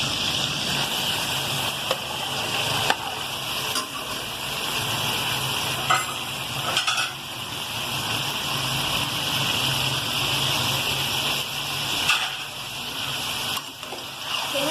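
Chicken frying with tomatoes and green chillies in a karahi, a loud continuous sizzle with occasional scraping stirs, close and steady.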